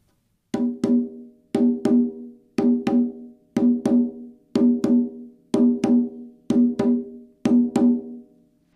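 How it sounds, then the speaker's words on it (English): Conga drum struck with the fingers in open tones, sounding eight evenly spaced pairs of ringing, rounded hits that stand alone, loud and close with no talking. "that's the sound of an open tone"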